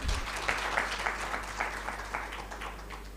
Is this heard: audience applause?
yes